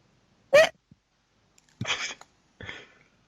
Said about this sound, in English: Hiccup or squeak of terror at rolling again.